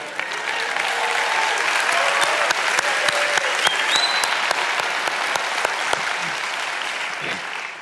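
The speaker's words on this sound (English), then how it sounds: "You weren't supposed to clap there." Sustained audience applause in a church or college hall, a dense wash of many hands with sharp individual claps standing out, holding steady for several seconds before tapering slightly.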